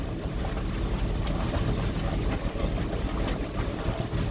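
A boat travelling on Lake Erie gives off a steady rushing wash of water and wind noise that runs without pause, loud and close, with no voices over it.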